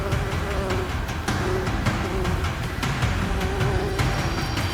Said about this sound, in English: thousands of angry bees are no deterrent